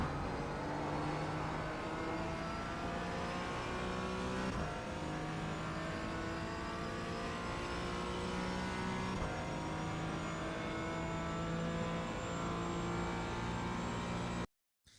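Porsche 718 Cayman GT4 engine in the iRacing sim at Okayama, a steady race-car drone that rises and falls through gear changes and acceleration out of corners, loud and continuous before cutting out abruptly at the end.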